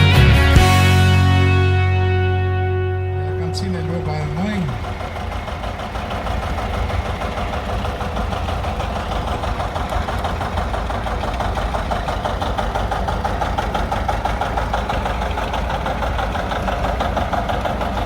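A tractor engine idles steadily at a settlers' tractor museum open day, its low rumble continuous and fairly close, with a brief louder burst at the start and no talk over it.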